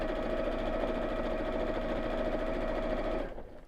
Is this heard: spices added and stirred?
no